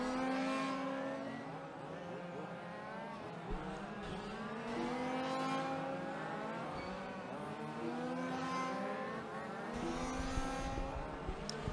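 Large-scale RC race cars circle a track at an Australian national final, their small engines whining steadily throughout, with overlapping pitch sweeps as cars pass and brief rises and falls of revving under continuous track ambience.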